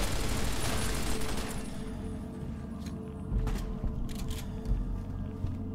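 Light machine gun fire in the post-apocalyptic shooter Fallout: New Vegas, a dense burst of rapid shots that gives way to scattered, fainter gunfire and impacts.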